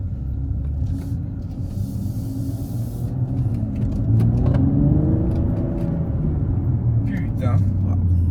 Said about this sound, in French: Déjà, on entend le moteur comme ça. On entend le moteur déjà.